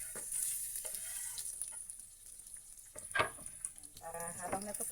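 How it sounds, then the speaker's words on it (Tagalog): Garlic and onion sauté in a pan for ginisang munggo, a soft, fairly faint sizzle with a few louder stirring scrapes and clinks toward the end. "Para habang nagpa-fry yan, nagigisa na din yung ating bawang at saka sibuyas."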